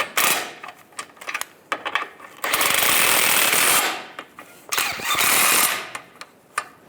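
Strut mount bolts being snugged on a 1998-2010 Volkswagen Beetle during a strut mount and bearing kit replacement: sharp ratcheting clicks, then two sustained, loud whirring bursts of a tool, broken by scattered metallic ticks.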